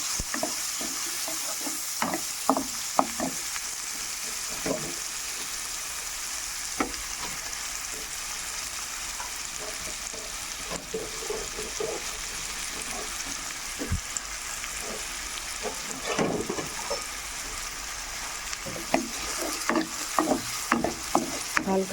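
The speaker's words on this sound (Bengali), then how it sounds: "হালকা আগে পেঁয়াজটা ভাজতে হবে" Chopped onions sizzle softly in a pan for a yogurt egg curry, with a steady frying hiss broken by repeated scraping clinks of a spatula stirring them, close up and with no talking.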